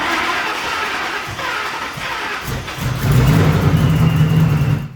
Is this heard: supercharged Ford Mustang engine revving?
yes